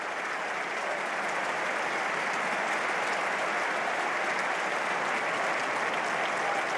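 A football stadium crowd at a Watford v Coventry City Championship match applauds steadily and sympathetically as an injured player is carried off on a stretcher, a distant, continuous roar of clapping.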